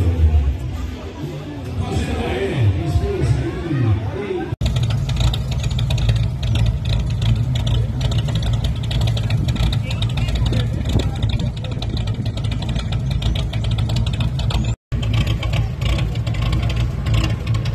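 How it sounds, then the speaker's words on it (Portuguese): A classic Volkswagen Gol 'sapão' idles and revs at a car meet, a loud continuous engine drone with rising and falling revs and background chatter. "Topa esse som desse golfo sapão"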